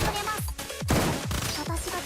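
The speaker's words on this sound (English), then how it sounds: "I always forget Kazuza has like a fucking LMG." Kazusa's light machine gun in Blue Archive fires rapid bursts of sharp, punchy shots, several quick volleys in close succession, loud and near.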